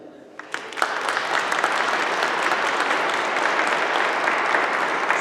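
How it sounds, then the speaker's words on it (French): A church congregation at an Easter Mass breaks into sustained applause, starting with a few scattered claps and swelling within a second into a dense, steady, loud ovation that holds to the end. "Je vous demande de les applaudir."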